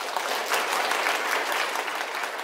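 Steady, dense applause from an audience at a yoga award ceremony, the Swami Kuvalayananda Yoga Puraskar 2024, honouring a team, heard alone with no voices throughout.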